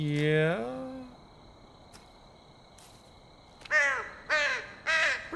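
A bird caws loudly in The Cursed Forest game, a long drawn-out cry at the start and then three sharp, close caws toward the end. Quiet ambient hum fills the gap between them.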